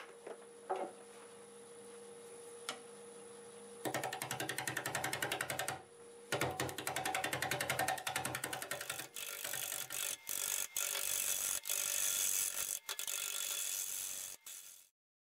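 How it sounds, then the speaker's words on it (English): A wood lathe spins English walnut at 650 RPM while a 5/8 bowl gouge cuts, giving a loud rattling chatter in bursts, then a harsher scraping hiss broken by short pauses, without talk. "I'm going to grab my 5/8 bull gouge. And we'll start turning on this."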